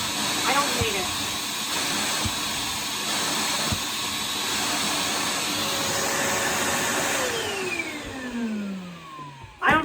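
A Vacmaster household wet/dry vac runs with its hose attached, giving a steady loud whooshing roar with shifting airflow tones, then cutting off near the end; a voice speaks over it at times.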